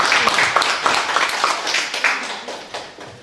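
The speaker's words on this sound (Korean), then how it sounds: "박수로 환영해 주십시오" Church audience applauding to welcome an elder as a guest lecturer, a dense wash of many hands clapping steadily and fairly close, slowly fading toward the end, with no voices over it.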